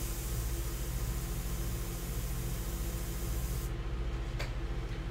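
Ink sprayed through an airbrush during a portrait painting, a steady close, loud hiss with a faint low pulsing underneath, running continuously until it abruptly thins near the end.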